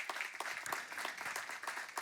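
An audience in a conference room gives a short burst of applause for partner organisations, a dense, fairly even patter of many hands clapping with no speech.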